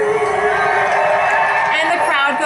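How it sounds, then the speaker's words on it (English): A live concert crowd at a performance cheers and whoops in a steady, loud roar, with singing or voices carrying over the noise. "And the crowd goes wild,"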